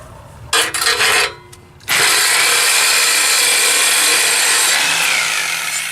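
A saw cuts through a car muffler exhaust pipe on a Chevy Impala, loud and close, with a short burst, a brief pause, then a long steady grinding cut.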